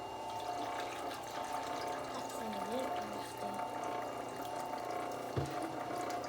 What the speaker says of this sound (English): Need more water.